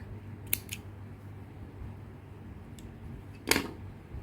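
Scissors cutting yarn during crochet work on a small avocado figure: two quick crisp snips near the start and another sharp snip later, close to the microphone over a steady low room hum.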